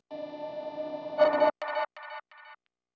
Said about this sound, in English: there is a reversed sound that sounds like this